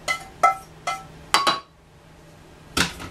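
Utensil stirring green bean casserole with mushrooms in a casserole dish, giving four or five separate clinks and scrapes at an uneven pace, close and fairly clear, with no talk.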